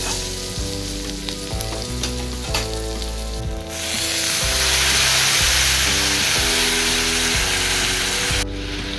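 Ginger and green chili paste sizzles in a hot pan, a loud, dense frying hiss that swells sharply after the paste goes in, with stirring scrapes over it and background music underneath.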